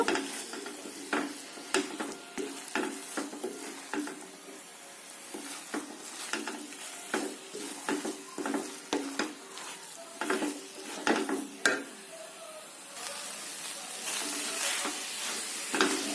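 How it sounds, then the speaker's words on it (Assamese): A jaggery and coconut mixture for Assamese laru is stirred in a pan, with repeated close scraping and tapping strokes against the metal over a soft sizzle. The stirring keeps an irregular rhythm throughout, and no one speaks. "অলপ সময় মই এনেকৈ তলত লাগি নধৰাকৈ লৰাই থাকিব লাগিব"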